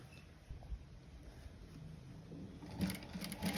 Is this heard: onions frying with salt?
no